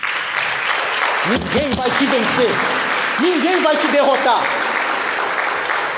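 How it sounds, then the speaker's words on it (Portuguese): Church congregation applauding at a Sunday service, broad steady clapping running throughout while a preacher speaks loudly over it. "Vamos aplaudir o nome de Jesus."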